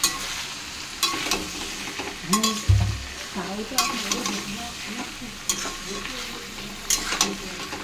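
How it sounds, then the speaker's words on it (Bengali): Ginger and garlic frying in a pan, a loud close sizzle broken by repeated scraping stirs and a single low knock, with no voices. "আদা রসুন দিলাম, আর এই একটু আদা রসুন আর একটু দিলাম, ওরকম ভাজবো।"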